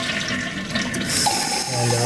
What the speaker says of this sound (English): I'm just going to pull a flush here